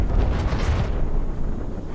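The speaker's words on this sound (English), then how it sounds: "Another big explosion." A big explosion in the video game Dirigibles of Doom, a deep, heavy rumbling blast that rolls on and slowly fades over two seconds.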